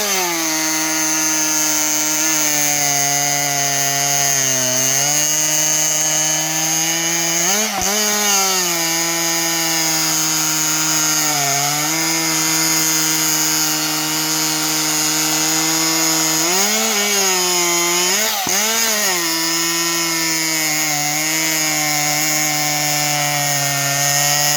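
A Stihl MS261 chainsaw fitted with a CPI racing exhaust pipe cuts wood. The loud, sustained engine whine runs throughout, and its pitch dips several times as the chain bogs down under load before recovering.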